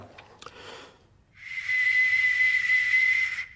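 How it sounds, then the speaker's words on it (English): After a few faint taps, a loud, steady, shrill whistle with a hissing edge rises and holds for about two seconds before cutting off, from an ancient bronze whistling arrowhead in flight. "although it's so old and it's made of bronze, it'll probably still whistle quite well"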